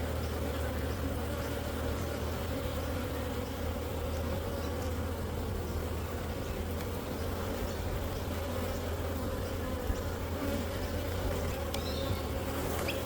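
Honey bees buzz in a dense, steady drone around an opened beehive during an inspection, close and continuous with no pauses.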